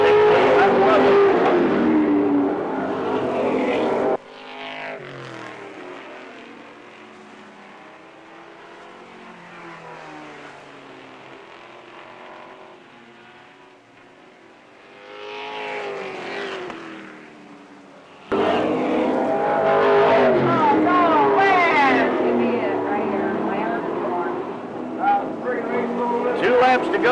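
Race cars roar around an oval track during lap 11 of a racing event, engines droning loudly with passing surges that swell and fade, while an announcer calls the race over the top.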